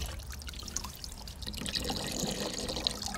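Salt water solution pours and trickles out in a steady, faint splashing stream with light dripping, alone without voices.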